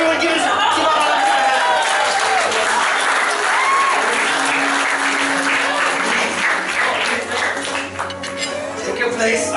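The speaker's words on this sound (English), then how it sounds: "Everyone give us a round of applause." Loud, dense crowd applause as an audience member is called onto a circus-themed stage, continuous clapping with some whoops and chatter mixed in, tapering slightly near the end.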